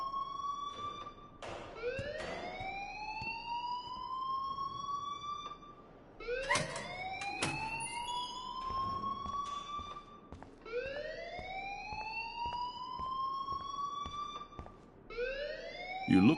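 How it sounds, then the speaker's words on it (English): Fire alarm in the video game Life Is Strange, a repeating electronic siren sweeping upward in long rising wails, steady and fairly loud, with clanking game sounds between cycles. "please turn off that alarm since that's your job"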